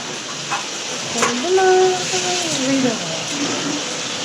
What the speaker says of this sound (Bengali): আজকে বর রান্না করছে রিঠা মাছ